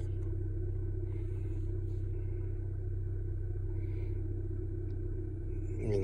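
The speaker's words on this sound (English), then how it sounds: "they also want you to leave your car running." A 2014-2019 Kia Soul engine runs at a steady idle, heard from inside the car as a faint, even low hum that continues throughout with no speech.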